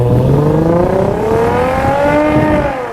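Lexus IS 350 V6 engine with F-Sport exhaust revving, a loud close rising engine note climbing steadily in pitch over three seconds, throaty and continuous with rich harmonics.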